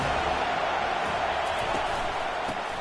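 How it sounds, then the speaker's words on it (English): A large stadium crowd at a Florida State versus Alabama college football game roars in a dense, continuous wash of cheering with no pause. "This crowd bringing the energy and noise early."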